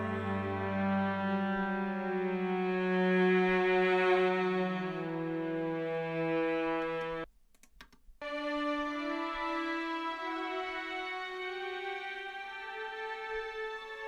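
Orchestral strings from the bridge and last chorus of the song, sustained layered harmonic lines playing loud and steady with a brief drop-out midway, no voices.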